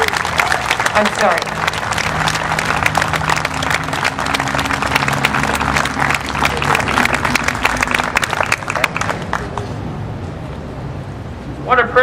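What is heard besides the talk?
audience applause for John Barry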